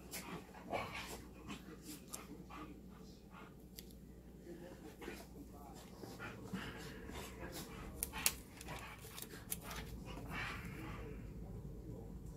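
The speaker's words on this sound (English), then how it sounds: "The dogs are gonna drive me psycho." Dogs whimper and pant faintly indoors, with scattered soft clicks and rustles and occasional quiet voices throughout.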